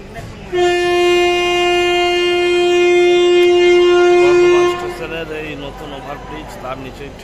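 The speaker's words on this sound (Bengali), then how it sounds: "ছেড়ে যাচ্ছে 2 নম্বর প্ল্যাটফর্ম থেকে মাদার হাওড়া এক্সপ্রেস" The Mother Howrah Express pulls out of platform 2 at a station, sounding one long, loud, steady horn blast for about four seconds, then fading into lower rumbling movement noise.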